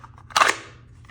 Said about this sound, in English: So you're just going to put your gun in and it's holstered. Take your gun out and it's ready to go.